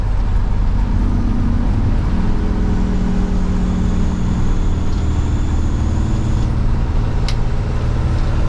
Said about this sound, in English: because the engine brake sounds like this